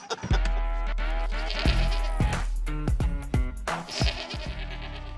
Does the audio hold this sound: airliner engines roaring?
no